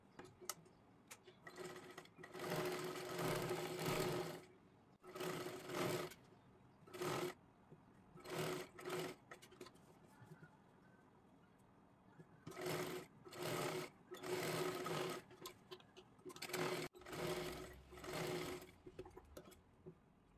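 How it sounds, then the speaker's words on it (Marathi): A sewing machine stitches the lining of a blouse neck in bursts of fast, even whirring, some long and some short, separated by quiet pauses, close and fairly soft. "सर्वात आधी आपल्याला पूर्ण शिलाई मारून घ्यायची आहे"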